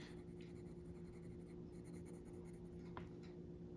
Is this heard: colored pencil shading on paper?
yes